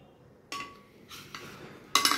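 A metal fork set on a plate holding a cheese and chhana egg omelette gives a few light, close clinks, two brief taps and a final brighter clatter, in a quiet room.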